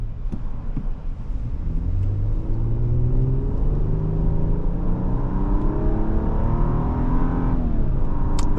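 A 2025 Infiniti QX80 SUV engine revving up through the gears while driving, rising whine climbing and dropping as it shifts, loud and close with road rumble underneath.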